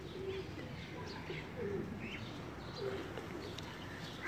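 Pigeons coo softly at intervals in a quiet setting, low murmuring calls repeating several times over a steady background hiss, with faint chirps mixed in.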